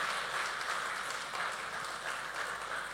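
Steady broadband applause from a large audience at a film pre-release event, continuous and even throughout with no voices over it.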